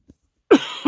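A man coughs inside a van, two sharp, close coughs in quick succession after a brief silence.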